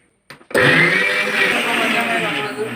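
A mixer grinder grinding kodavan chutney starts after a couple of soft clicks and then runs as a loud, steady, close whir to the end, with no talking over it.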